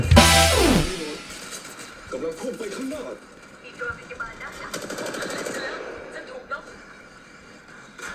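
Rapid automatic gunfire from the Apex Legends Mobile video game, a loud burst at the start that fades into scattered in-game shots and effects over the rest of the clip.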